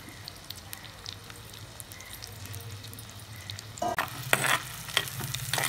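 Onions and green chilies frying in hot oil for masala vada pulusu: a steady low sizzle that turns into louder crackling and spattering with stirring scrapes near the end.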